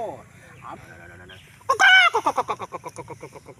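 A voice speaks briefly, then a chicken's loud squawk gives way to a fast series of clucks that trail off, close by.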